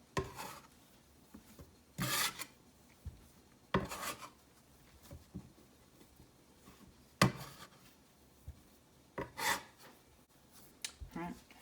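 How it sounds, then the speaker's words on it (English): Soft scraping and rubbing as dough is folded with flour using a bench scraper on a board for potato gnocchi, a handful of quiet separate strokes with pauses between. "Just fold that in with our bench scraper."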